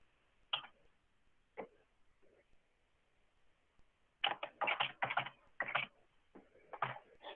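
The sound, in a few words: computer keyboard typing, keys being pressed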